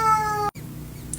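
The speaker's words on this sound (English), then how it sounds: "oh my god, that's my cat" A pet cat gives one short, close meow with a clear tonal whine, then the sound cuts off abruptly into quiet room noise.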